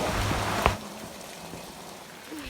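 Steady rain falling on potted garden plants in the monsoon season, a continuous close hiss of drops with one brief louder splash early on, no voices.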